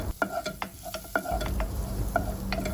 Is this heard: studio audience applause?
no